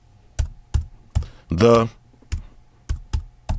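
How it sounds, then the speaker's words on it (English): Crisp, evenly spaced key clicks from typing on a Brydge Pro wireless keyboard for an iPad Pro, loud and close, with a short spoken word in the middle. "let's try some actual typing"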